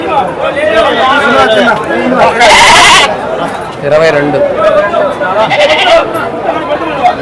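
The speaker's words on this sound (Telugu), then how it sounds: "ఇంకొక మేకపోతులు అనేది పెడుతున్నారు" Goats bleating at the Saturday livestock market in Tirupati, several calls rising over a busy crowd while people talk and call out weights nearby.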